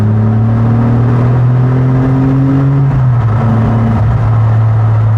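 A Lamborghini Murciélago SV engine drones loudly with rising and falling tones, echoing as it pulls through a tunnel, steady throughout.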